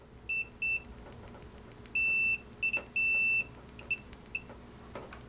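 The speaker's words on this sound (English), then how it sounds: "You can hear the beeper sounds very raspy" A Mastech MS8211 pen multimeter in continuity test mode gives short raspy electronic beeps, several brief chirps and a few longer tones in an irregular pattern, close and clear over faint clicks.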